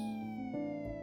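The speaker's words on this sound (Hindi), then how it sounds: "आपने पुलिस सायरन की आवाज सुनी?" A police siren wails in a steady, sustained tone for about a second, loud and alone, with no voices over it.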